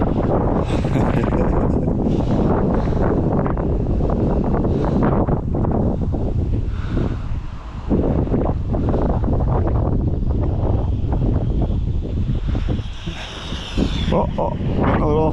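Crosswind buffets the microphone during a speed run of a Tamiya MF-01X RC car outdoors, a loud continuous rumbling roar with gusty swells and brief dips.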